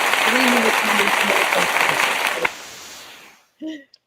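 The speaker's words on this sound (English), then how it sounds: "Give us the applause sound effect, B, if you got that up here." A canned applause sound effect plays under someone talking on a sports podcast, a steady crowd-clapping wash that fades out to silence, followed by a brief voice.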